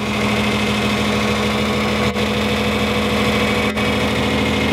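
A John Deere 4020 tractor engine idles steadily in a field of corn rows, a loud, even diesel rumble with a constant drone and no speech over it.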